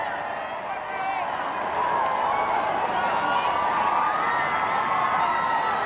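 A crowd cheers along a royal carriage procession in London, a continuous roar of many voices and shouts that swells and holds loud, with a narrator talking over it.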